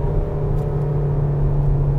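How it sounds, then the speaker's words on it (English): A steady, close turbo diesel hum from a Seat Ateca FR cruising in third gear, a low even drone with a faint whir and no change in pitch over two seconds. "It sounds okay. I mean, for a 4-liter turbo diesel engine."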